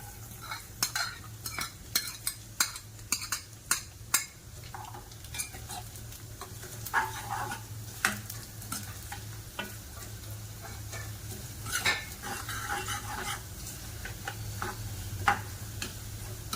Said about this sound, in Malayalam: ഉണ്ണിയപ്പത്തിനുള്ള ആ തേങ്ങയൊന്ന് നമുക്ക് വറുത്തിടാം. അത് നെയ്ക്കകത്താണ്